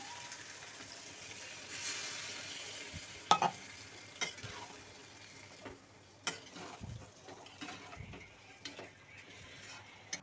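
Pieces of mutton fry quietly in a pan with a soft, continuous sizzle, broken by a few sharp scrapes and clatters as a spoon stirs the meat.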